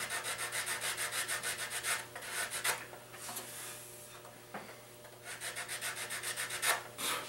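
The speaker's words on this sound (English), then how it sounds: "I can take my sanding block" Rhythmic back-and-forth scraping of a sanding block on a guitar kit's wood, quick regular strokes in bursts with a brief pause midway, close up, and a low hum underneath.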